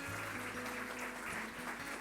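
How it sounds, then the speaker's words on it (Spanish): A church congregation applauding during a Spanish-language communion service, a steady wash of clapping that stays fairly faint and continuous throughout. "Dele un aplauso al Señor."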